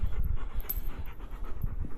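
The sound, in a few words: stressed dog panting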